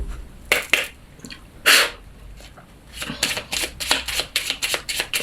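Tarot cards are cut and then shuffled close by, with a few sharp flicks early on followed by a quick run of rhythmic riffling snaps.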